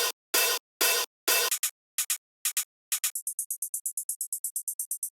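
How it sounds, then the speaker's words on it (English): Open hi-hat sample: a few long, bright washing hits first, then shorter choppy ones, shifting into a rapid run of thin, high ticking hits, crisp and close with nothing else heard. "Open hi-hat."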